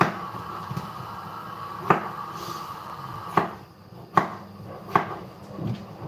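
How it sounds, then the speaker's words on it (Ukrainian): A knife chops medium potatoes into pieces on a board while cooking borscht, giving several sharp, spaced knocks over a steady kitchen background hum. "Картопля в мене така середня. На середній кавалки натискаємо, нарізаємо."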